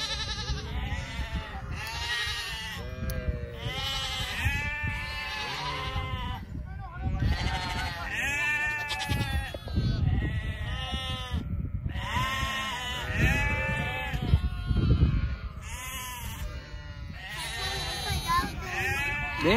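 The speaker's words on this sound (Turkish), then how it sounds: "Şu tarafta da yavru kuzular var." A large flock of sheep with young lambs bleats nonstop, many overlapping cries near and far, with people talking among them.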